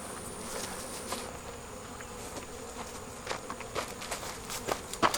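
Nurse honey bees buzz on hive frames during a queen install, a close, steady hum with individual bees zipping past the microphone.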